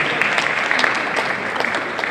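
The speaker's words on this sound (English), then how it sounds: "You should really applaud yourselves." An audience at a hip hop event applauds, dense overlapping hand claps at full strength throughout, close and steady with no voices rising above it.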